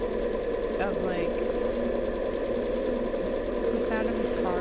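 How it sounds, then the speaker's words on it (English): Car engine in the video game Uncanny Valley idles with a steady, droning hum throughout, close and even in level, while a person talks over it. "the sound of his car is very weird"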